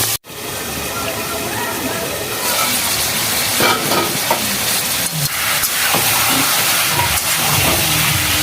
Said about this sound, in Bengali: এবার মাংসটা ভাজবো আর ঢাকা দেবো।